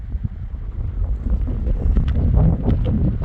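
Strong gusts of wind buffet the microphone on a mountain trail beside lakes, a loud, low, rumbling roar that swells and builds over a few seconds.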